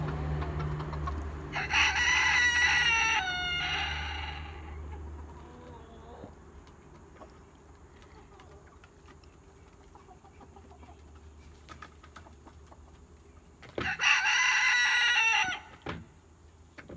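Farm chickens cluck softly in the background, while a rooster crows loudly twice, once early and once near the end, with quieter stretches of low clucking between the crows.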